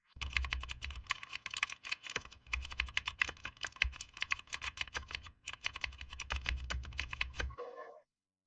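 A prompt being typed on a computer keyboard, with rapid, close clicking keystrokes in dense bursts, brief pauses between them, and the typing ending in a short final stretch.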